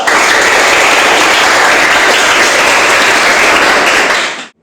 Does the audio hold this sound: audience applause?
yes